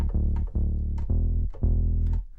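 A low synth layer from an instrument rack plays a run of sustained, deep bass notes, each separated by a short attack, steady and loud with nothing else over it.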